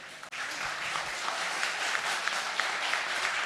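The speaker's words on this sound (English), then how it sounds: "with your applause" Audience applause for the Italian Uniboat team at the Monaco Energy Boat Challenge 2021 tech talks, a steady, fairly loud wash of clapping that holds evenly for several seconds.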